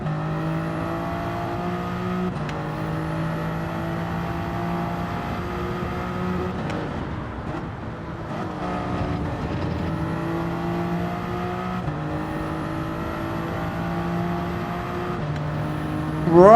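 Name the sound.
race cars driving in Gran Turismo 7 video game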